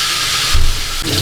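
Ginger garlic paste frying in a pan for Chinese-style rice: a loud, steady sizzling hiss close up, with a low thump partway through and a shift in tone near the end.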